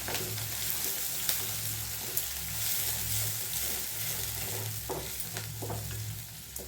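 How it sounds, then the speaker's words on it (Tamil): Onion and curry leaves sauté in a pan with a steady, close sizzle and frying crackle, broken by occasional scraping stirs, no voices. "பெரிய வெங்காயம் தான் பொடியாக கட் பண்ணிக்கிறேங்க. கருவேப்பிலை இதெல்லாம் சேர்த்து நல்லா வதக்கிக்கலாம்."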